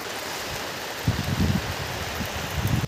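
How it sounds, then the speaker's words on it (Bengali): A sudden burst of heavy rain roars as steady broadband hiss at a village outdoor kitchen, with a few heavier rumbling gusts midway and near the end; no talking. "এক ঝাপটা জোরে বৃষ্টি হয়ে গেল"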